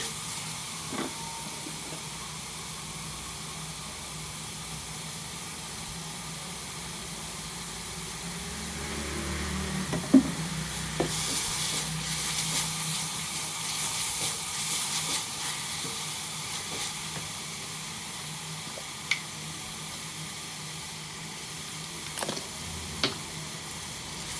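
Onion frying in a little oil for Alexandrian-style liver, a quiet steady sizzle with scattered clinks and scrapes of stirring, louder around the middle.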